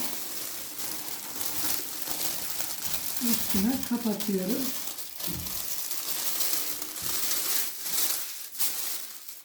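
Plastic bag or oilcloth rustles and crinkles while içli köfte are being prepared, a close crackling texture running under a woman's speech through most of the stretch.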